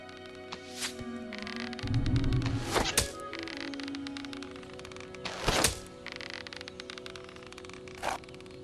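Arrows thunk into a target in the video game Fable Anniversary: a few sharp, separate impacts spaced several seconds apart, heard over a low ambient game hum and music.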